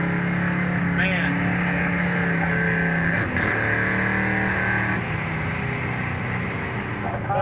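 A 1969 Chevelle SS pulls hard from a rolling start, its V8 roaring loudly and steadily with a constant, heavy engine drone while occasional voices are heard underneath.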